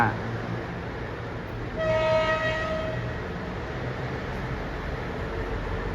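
Thai special express sleeper train No. 25 on the Nong Khai line gives a short horn blast of about a second over a steady, loud rolling rumble of the moving train.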